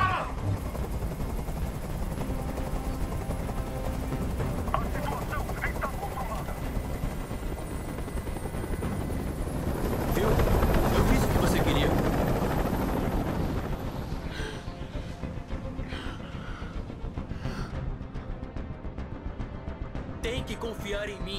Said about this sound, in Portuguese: Esse helicóptero tem que sair daqui agora!